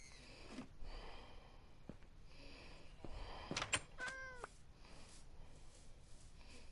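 A cat meows a few times in a quick, faint run that rises and falls, heard over a quiet background hum without talk.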